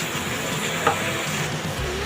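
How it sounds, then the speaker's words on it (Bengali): Beans, potato and cauliflower stir-fried with spices, a continuous loud sizzle with a single brief scrape of a spatula midway. "এখন এগুলোকে ভালো করে মশলার সাথে নেড়ে চেড়ে কষিয়ে নিব।"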